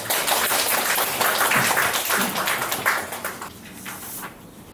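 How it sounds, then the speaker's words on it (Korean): Dense, hissing applause from an audience welcoming a speaker at a book talk; it starts loud and thins out toward the end, with no talk over it. "뜨거운 박수 부탁드립니다"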